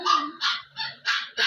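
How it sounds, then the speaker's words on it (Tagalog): A pet dog barks in a home, four or five sharp, fairly loud yaps in quick rhythmic succession, close by and with no talk over them. "Pasensya na ang aking aso"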